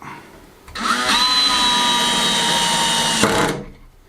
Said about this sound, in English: So these are the last 2 screws going in.